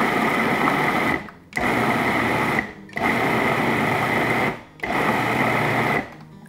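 A food processor whirs loudly and steadily in four bursts of about a second and a half each, with short gaps between them, as it pulses a protein bar mixture for orange vanilla protein bars.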